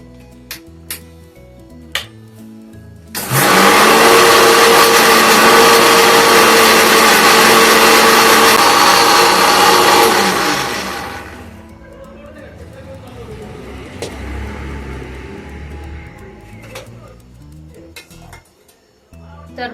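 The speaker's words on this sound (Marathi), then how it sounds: "तर आता आपण याला मिक्सरला छान वाटून घ्यायचंय" Mixer grinder whirring loudly as it blends a green chutney of chilies, yogurt, sugar and salt, a steady broadband roar of about seven seconds, with quieter kitchen sounds and talk before and after.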